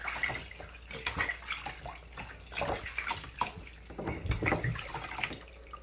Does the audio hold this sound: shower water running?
yes